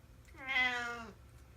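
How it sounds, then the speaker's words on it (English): A domestic cat gives a single clear, drawn-out meow up close, rising and falling over about a second against a quiet room with no talking. "It's my cat."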